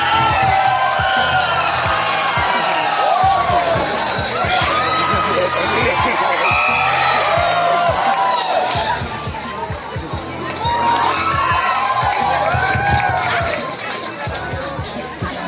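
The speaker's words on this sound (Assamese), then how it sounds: "সকলোৰে হাত চাপৰি বিচাৰিছোঁ" A crowd at a live comedy show in Sarapara cheers and shouts continuously, with whoops and children's voices in a loud, sustained roar that dips briefly before rising again.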